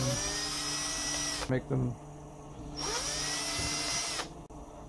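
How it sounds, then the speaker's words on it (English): A power drill bores holes in the cap of an IKEA ROTERA LED lamp, its motor whining loudly in two sustained runs separated by a short pause, with brief talk between them. "So I've got this drill in the chuck"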